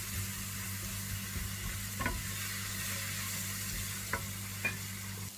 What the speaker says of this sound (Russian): Дадим прогреться сейчас морковке и острому перчику.